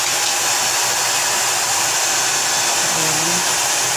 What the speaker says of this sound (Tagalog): Ang gagamitin natin blower, yung lang siya, cold lang.